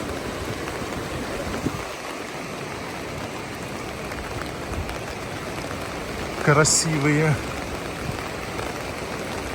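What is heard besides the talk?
heavy rain falling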